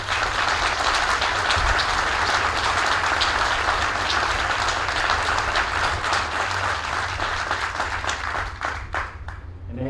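Audience at a Marine Corps relief and appointment ceremony gives sustained, loud applause for nearly ten seconds, a dense crowd of hands clapping that thins toward the end.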